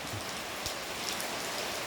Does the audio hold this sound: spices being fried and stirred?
no